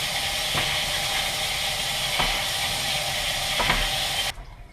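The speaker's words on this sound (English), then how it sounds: "first you want to measure out your rice and wash it" Sushi rice is washed in water, a steady close rushing hiss with three soft splashing stirs, cutting off abruptly near the end.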